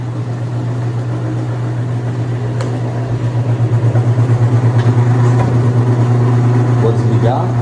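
Skymsen PA-7 PRO food processor grating cheese, a steady low motor drone with a rhythmic pulsing hum that swells slightly as it runs, while a voice talks over it.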